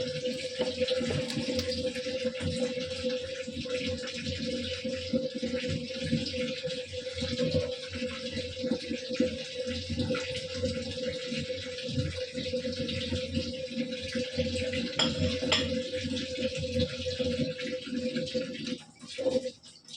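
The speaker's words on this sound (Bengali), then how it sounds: "কলটা বন্ধ হচ্ছে না কেন?" A tap that will not shut off runs steadily in a sink, a continuous hiss of flowing water over the whole stretch, with a few faint knocks and clatters and brief background sounds toward the end.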